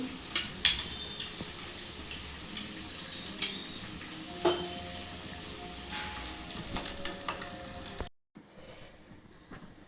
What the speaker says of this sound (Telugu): ఇదిగోండి బాగా ఫ్రై అయిపోయిందండి ఎగ్